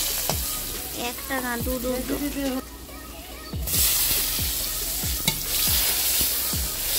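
Potatoes frying in a pan for a sour fish curry, a continuous sizzle with regular spatula scrapes and knocks throughout, while someone briefly speaks partway through.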